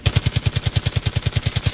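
Fully automatic gunfire in Far Cry 5, a loud, close, evenly spaced stream of roughly a dozen rapid shots with no pause and no talking over it.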